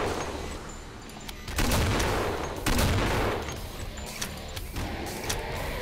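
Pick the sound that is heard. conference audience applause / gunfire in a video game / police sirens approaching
gunfire in a video game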